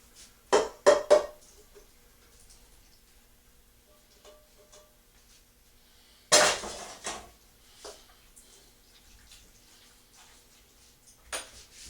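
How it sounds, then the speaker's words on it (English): Cooked fettuccine goes into a baking dish for chicken tetrazzini, with a few sharp clattering knocks of utensils and dishware separated by quiet stretches. "we're going to put our fettuccine in here next"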